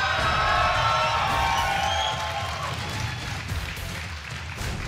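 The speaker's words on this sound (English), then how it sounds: "Most people cheering, one guy in the front row not impressed." Crowd cheering and applauding at a StarCraft 2 tournament between games, a dense, loud roar of many voices with whoops that gradually eases slightly over several seconds.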